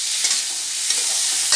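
Sliced bitter gourd frying in hot oil with turmeric, a continuous close hiss and sizzle with faint stirring scrapes, no voices.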